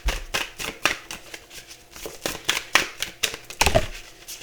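Tarot cards being shuffled by hand in a series of quick, crisp riffling bursts and soft slides, close and fairly loud, with irregular pauses between them.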